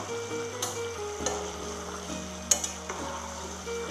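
Mushrooms frying in a pan with the lid off, a steady soft sizzle with a few sharper clinks and stirring touches, close and fairly quiet.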